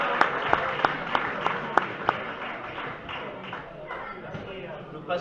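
An audience at a trophy presentation claps for the winners, with a few sharp isolated claps first, then softer, denser applause spread through the room.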